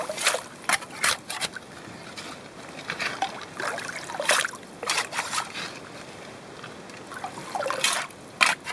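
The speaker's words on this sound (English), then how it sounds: "So I'm going to take a couple of scoops out of this creek here, this section, and pan it off and see what we get." Icy creek water in northwest Tasmania scooped into a gold pan while prospecting for osmiridium, with intermittent splashes, drips and trickles in irregular bursts close to the microphone.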